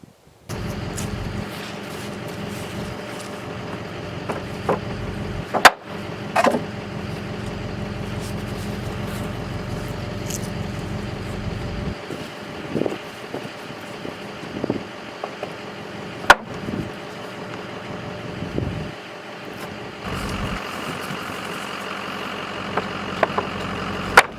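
A pickup truck drives along, its engine a low, steady rumble broken by occasional clunks and rattles from the load, then easing off in the final seconds.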